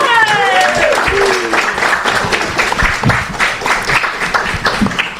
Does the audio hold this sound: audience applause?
yes